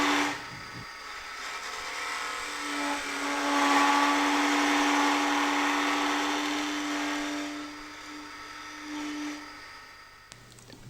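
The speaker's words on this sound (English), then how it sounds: "if too heavy a cut is taken, it can lead to vibration and chattering, as we can hear now" A Robert Sorby multi-tip tool taking too heavy a shear-scraping cut on a wood lathe gives a sustained shrill, buzzing chatter with a steady humming tone underneath, swelling and fading over several seconds with no talking.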